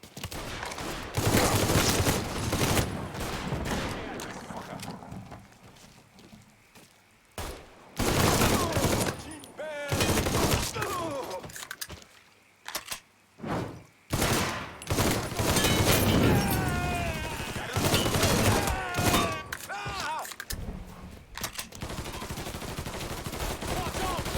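Heavy gunfire in Mafia III, with bursts of automatic fire and single shots crackling in dense volleys, broken by short lulls, while voices shout in between.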